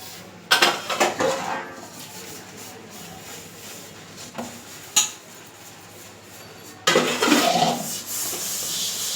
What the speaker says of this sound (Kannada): ಇವರು ಪಾತ್ರೆ ತೊಳೆಯೋದೆಲ್ಲ ಹಾಕ್ತಾವ್ರೆ